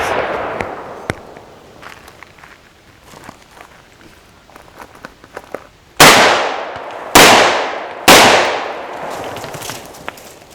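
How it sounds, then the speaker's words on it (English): A revolver fires three loud, close shots from inside a concealed-carry purse, each a sharp crack with a ringing decay, spaced about a second apart after a stretch of quieter rustling and footsteps, with no talking. "I've managed to shoot the gun all the way through the purse"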